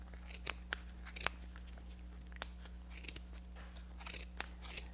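Scissors trimming crochet yarn while making a beanie, several sharp, close snips spaced irregularly over a steady low hum.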